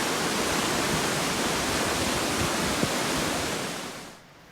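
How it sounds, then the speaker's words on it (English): Rain-swollen brook near Windermere in Cumbria's Lake District, a dense, steady rush of water as a torrent, loud and unbroken, fading out at the very end. "That babbling brook's now turned into a raging torrent."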